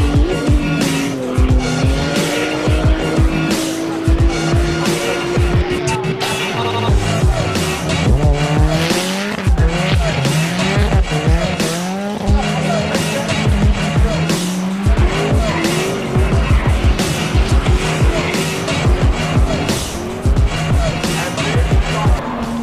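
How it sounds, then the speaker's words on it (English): Drift cars at a Japfest track event roar past with revving engines and repeated long tire squeals and skids, loud and continuous with rising and falling pitch as the cars slide through. "See if we can get some shots of these drifters."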